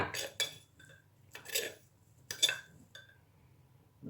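A metal spoon scrapes and clinks against a pot while tom yum soup is stirred, a few separate bright clattering strokes spaced across several seconds with quiet gaps between.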